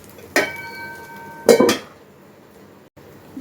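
A lid set down over a dosa pan, two sharp metallic clanks, the second a double clatter, then near quiet.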